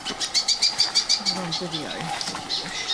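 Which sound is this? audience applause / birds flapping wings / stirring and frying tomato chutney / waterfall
birds flapping wings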